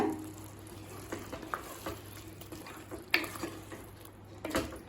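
Chilli paneer with coriander and spring onion is stirred and mixed in a pan: a soft background sizzle broken by irregular scrapes and light clanks of the spoon against the pan, fairly quiet overall.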